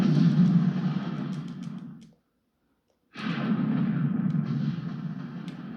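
Heavy gunfire in the toy-soldier combat video game Army Men 3D: a loud, dense burst of shooting that cuts out for about a second of silence, then resumes just as hard.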